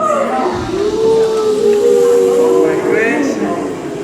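Voices make a long, low whooshing howl imitating wind blowing, steady and drawn out, swelling slightly in the middle.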